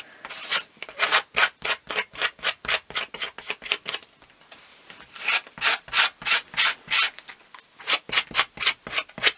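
A card is rubbed firmly back and forth over paper to press it flat and stick it down, making a close, steady run of rasping strokes in quick rhythmic bursts with a brief pause partway through.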